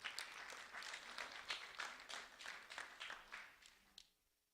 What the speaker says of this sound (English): a round of applause for Jasmine Nieves.